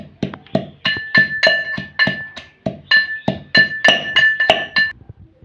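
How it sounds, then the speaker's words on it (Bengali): Dried fish is pounded in a mortar in a steady rhythm of about sixteen hard, ringing strikes over five seconds. The blows are close and loud with brief gaps between them, and no voice is heard. "এখন আমি ছেঁচার মধ্যে শুটকি মাছগুলো দিয়ে দিচ্ছি। এগুলো ভালো করে ছেঁচে নিতে হবে।"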